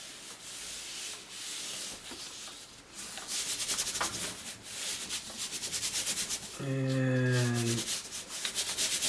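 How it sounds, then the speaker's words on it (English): Paper rubbed by hand over an inked plate to pull a monoprint, with business cards laid underneath, gives soft, repeated scratchy strokes at close range, and a brief tonal hum rises near the end. "I'm going to want to really rub in because I really want to get around those business cards"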